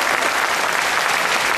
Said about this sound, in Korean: 저희 오케스트라에게 여러분들이 박수로 크게 힘을 실어주시면 저희가 더 힘을 내서 하실 수 있습니다.